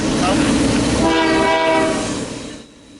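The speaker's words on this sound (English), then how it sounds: "A horn salute tells of a friendly crew within the cab." A CP freight train hauling westbound grain loads for Vancouver on the Thompson subdivision sounds a loud, sustained horn salute over rolling rail noise, the blast fading away in the last second.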